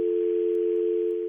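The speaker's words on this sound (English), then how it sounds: "gets the dial tone" A steady, continuous telephone dial tone hums at even loudness, alone, fading slightly at the very end.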